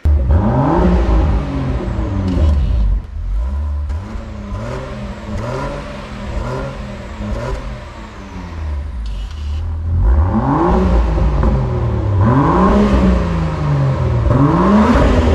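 A Land Rover Defender P400 fitted with a QuickSilver performance exhaust revs hard and repeatedly, loud and close, its engine note climbing and falling in rising sweeps with brief dips between blips.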